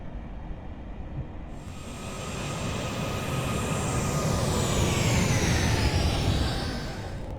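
Airbus A380 jet climbing after takeoff in the Aerofly FS4 flight simulator: a steady, loud engine roar with broad rumble that swells gradually and holds, with no voices.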